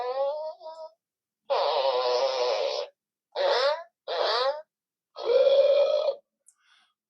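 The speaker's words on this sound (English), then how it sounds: "Gross mode, yeah, which is basically farts." A MiBro toy robot plays synthetic fart and burp sound effects in gross mode, five or six loud electronic bursts separated by short silences.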